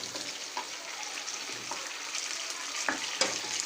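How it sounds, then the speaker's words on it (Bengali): Chunks of meat sizzle steadily in a hot pan with fried garlic for mixed fried rice, a continuous close frying hiss broken by a few sharp stirring scrapes and clinks. "2 থেকে 3 মিনিট ভেজে নেব, অর্থাৎ যতক্ষণ না পর্যন্ত মাংসটা সেদ্ধ হয়ে আসছে ততক্ষণ পর্যন্ত আমি মাংসটা ভেজে নেব"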